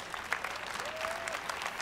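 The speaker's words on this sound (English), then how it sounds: "Let's give them all a round of applause." Audience applause at the E3 2018 Electronic Arts press event in honor of game developers, a steady wash of distant clapping from a large hall with a faint tone running through it.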